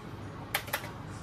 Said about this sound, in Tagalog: So ito yung ating ROG keyboard. Pakinggan yung tunog, oh. Keyboard pa lang ng ROG yan.